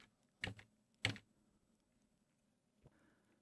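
A few quiet keystrokes on a computer keyboard while entering a search in music patching software, two distinct clicks close together, then a fainter one after a pause in near silence.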